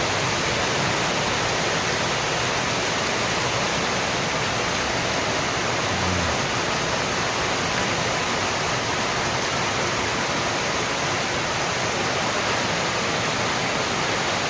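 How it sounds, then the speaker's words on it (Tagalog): Heavy rain pours down steadily, a dense, loud, unbroken roar of falling water that fills the whole clip without any voices. "sobrang lakas ng ulan"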